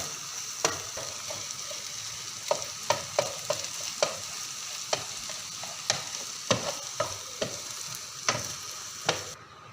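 Eggs frying in a pan for masala egg rice, a steady soft sizzle broken by repeated sharp scraping clicks of a spoon or spatula stirring against the pan, close and alone without talk.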